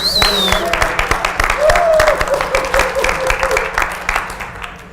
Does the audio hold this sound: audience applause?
yes